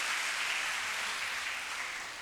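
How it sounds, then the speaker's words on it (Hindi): Audience at a summer camp certification ceremony clapping for someone, a steady broadband wash of applause that holds evenly and fades slightly toward the end, with no voices over it. "आप लोगों से चाहूँगा कि इनके लिए एक बार मेरी तरफ से भी इनके लिए तालियां बजाई जाएं"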